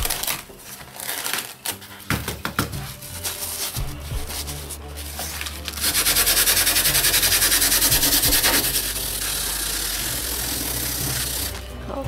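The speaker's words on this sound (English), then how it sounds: "So this one is messy because I have to brush that sand off." A brush sweeps and rubs sand off a watercolor painting made with the plastic wrap technique, giving close, steady scratchy rustling that grows louder and denser in the second half.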